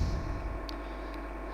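Ship engines picked up on submarine sonar in the WWII U-boat game Aces of the Deep: a steady, low, droning rumble throughout, with two faint, brief high pings over it.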